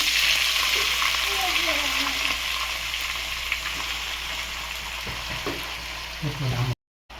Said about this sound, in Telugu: బాండీలో ఆయిల్ వేసుకుందామండి. తర్వాత గోంగూర పెట్టుకొని మగ్గిచ్చేసుకుందాం.